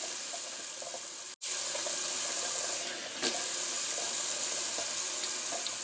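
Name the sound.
running cold tap water for rinsing face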